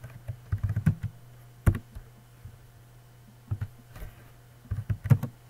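Typing HTML code on a computer keyboard: irregular bursts of close, crisp key clicks with short pauses between runs, alone with no talk.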